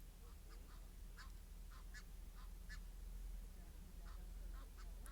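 Geese and goslings at a London bird park give repeated short honks and quacking calls scattered over a steady low outdoor hum, the calls fairly faint and spaced irregularly.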